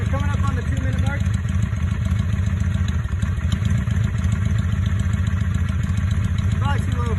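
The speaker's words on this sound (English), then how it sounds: "a really low idle, so I'm guessing it's difficult to get steady conditions" A carbureted motorcycle engine chugs at a very low idle, steady and close, with a constant uneven rumble throughout.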